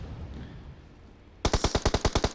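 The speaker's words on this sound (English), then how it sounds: "Good shots on Sun Yu, but your spot has been blown now." Automatic gunfire in PUBG Mobile during a competitive match, a rapid burst of about ten sharp evenly spaced shots that begins abruptly after quiet background ambience, loud and close.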